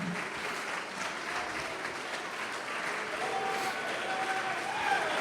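A church congregation applauds steadily, the clapping building slightly toward the end, with faint voices and a few whistles mixed in.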